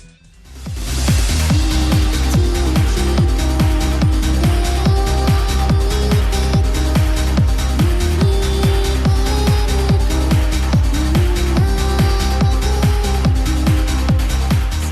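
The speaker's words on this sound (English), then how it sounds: "The very first thing he uploaded was a trance remix of the ending song" Driving trance remix of a rhythm game's ending song, with a pounding four-on-the-floor kick, pulsing bass and bright layered synth leads, loud and continuous throughout.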